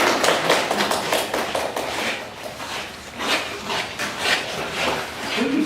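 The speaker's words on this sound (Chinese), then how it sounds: "我就想要我们一起拍手" Applause from a church congregation welcoming a guest speaker to the front, a steady spread of many hands clapping at moderate volume for several seconds, with no voices over it.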